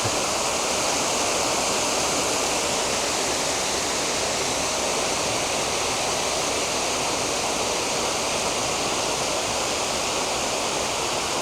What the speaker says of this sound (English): There you go, you can see the water coming in.